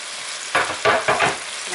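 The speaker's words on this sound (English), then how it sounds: "Next, I'm putting in the garlic." Garlic sizzles in a pot of French onion soup base. It crackles with several quick bursts as it is stirred, close and clear, with no talk.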